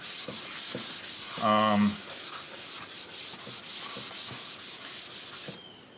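Steady back-and-forth rubbing of a sanding sponge on a surface, repeated strokes in an even rhythm, close and fairly loud, with no talking.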